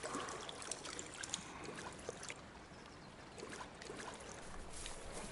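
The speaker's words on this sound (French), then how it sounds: "Au moins, il y a le bruit d'eau." Water flowing in a stream in the VR game Colossal Cave VR, a faint, steady trickling wash that runs the whole time with no voices over it.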